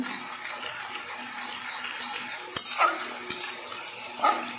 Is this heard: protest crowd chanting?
no